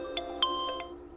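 A short electronic chime of a few bright tones plays once, like a phone ringtone starting, clear and close.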